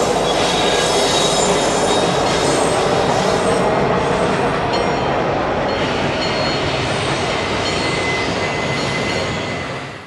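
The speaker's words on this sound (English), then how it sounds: "I was able to catch a southbound Norfolk Southern intermodal train as it passed" A long southbound Norfolk Southern intermodal freight train rumbles steadily past close by, wheels clattering and squealing against the rails, the roar holding loud for the whole stretch before easing slightly at the end.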